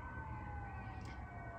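A distant ambulance or police siren on the outskirts of a city, a faint steady wail drifting over a low background rumble, no voices.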